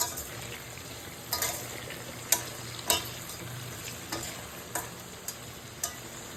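Mirchi ka salan fries in a pan, with a constant sizzle. About eight sharp stirring scrapes land at uneven intervals, close and clear.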